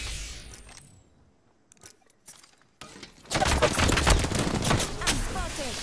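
Heavy gunfire in a shooter video game, targeting the player: a sparse quiet stretch with a few isolated shots, then a sudden loud, dense barrage of rapid overlapping shots and impacts filling the final seconds.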